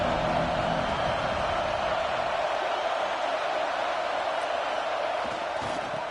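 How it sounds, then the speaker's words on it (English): Football stadium crowd roars as a steady, broad wash of distant noise with no distinct cheers standing out, holding at an even level throughout. "This crowd ready to make its presence known."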